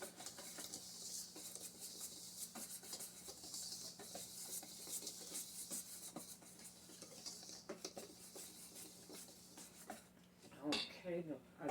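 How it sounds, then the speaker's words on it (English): Whisk scraping and tapping in a bowl as cornmeal and flour are mixed, a steady brisk stirring rhythm close up, ending with a louder clatter. "I'm going to add 2 1/4 cups of flour, and I'm going to whisk that up real good."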